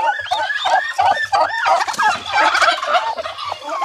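Turkey hens in a laying nest give rapid, warbling gobbles, several birds calling over one another close by in a loud, continuous burst.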